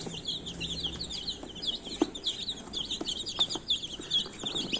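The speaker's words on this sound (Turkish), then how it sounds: "11 tane civcivi götürüyoruz." A group of eleven chicks chirps continuously in high, rapid peeps, fairly close but soft, with occasional light taps and rustles as they move about, no voices present.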